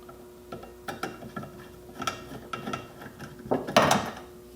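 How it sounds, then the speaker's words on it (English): Two Phillips screws being backed out of the rear wiper on a 3rd-generation Toyota 4Runner, heard as a series of small, close metallic ticks and clicks with a brief louder rattle near the end. "So first I'm going to remove these screws"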